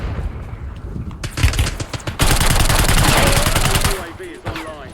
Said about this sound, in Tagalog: Asan yung bumabaril sa akin?